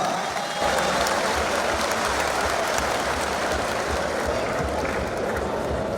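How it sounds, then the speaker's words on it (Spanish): Dense, sustained audience applause fills a hall at a Bolivian political congress, loud and continuous with crowd noise, and no clear speech stands out. "Recibamos con un fuerte aplauso a Argentina."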